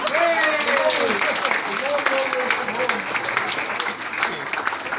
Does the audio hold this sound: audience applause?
yes